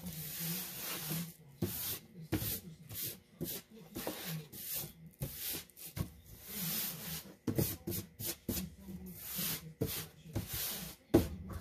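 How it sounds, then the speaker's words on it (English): Eraser crumbs being brushed and wiped off a sheet of paper during an art lesson, a series of close, dry rubbing strokes in irregular bursts with brief pauses between them. "make sure that you wipe off all of the crumbs from your eraser"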